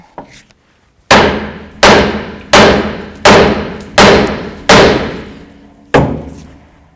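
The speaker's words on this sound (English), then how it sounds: "I'm going to take a big hammer, and I'm going to blow right here on the knuckle," A big hammer pounds the steering knuckle of a Jeep Cherokee to pop a tie rod end loose: seven loud, sharp metallic blows at a steady rhythm, close up, each ringing briefly before the next.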